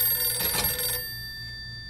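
Telephone in a live-action Mario in the Morning skit rings in one short electronic trill, moderately loud, then cuts off into a quiet steady hum with no voices.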